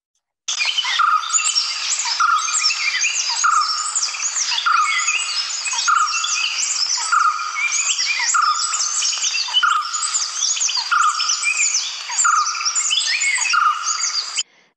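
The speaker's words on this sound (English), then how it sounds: "It's called the white-cheeked barbet." A white-cheeked barbet, a bird endemic to peninsular India, calls repeatedly in a rhythmic, continuous series of notes heard alone and clearly from fairly close.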